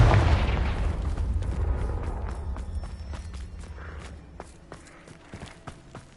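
The Confringo fire-blasting spell detonates in Hogwarts Legacy on PS5 with a deep, heavy boom that rumbles and slowly fades over several seconds, followed by a few light footsteps.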